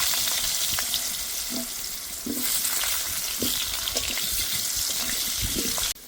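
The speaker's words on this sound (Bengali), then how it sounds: "পটল ভাজা তেলে আলুগুলো ভেজে নেব" Large-cut potato pieces fry in oil left over from frying pointed gourd, giving a loud continuous sizzle with occasional stirring clinks and scrapes before it cuts off abruptly near the end.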